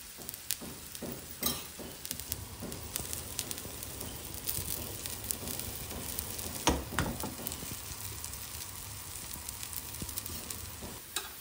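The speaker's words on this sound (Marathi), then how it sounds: "आणि वर एक थोडंसं आपण तेल टाकणार. ते छान शिजलं गेलं पाहिजे तेलामध्ये." Corn and tomato omelette frying in oil in a pan, a steady close sizzle running throughout with occasional louder crackles and spatula scrapes, no voices.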